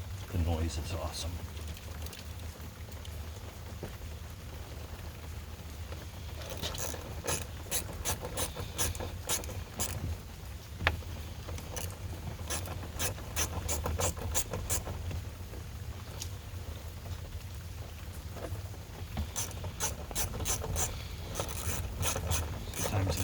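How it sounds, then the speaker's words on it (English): A hand ratchet clicks in repeated bursts of quick strokes while working on a 2000 Yukon or Tahoe door lock, close-up, with pauses between runs and a faint background hum. "Takes much more time, but the noise is awesome."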